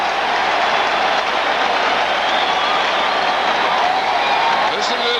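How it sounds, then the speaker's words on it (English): Home crowd at a 1991 NFL game, Green Bay at Minnesota, roaring in a steady, loud wash of cheering and noise that runs unbroken throughout. "Listen to this crowd here."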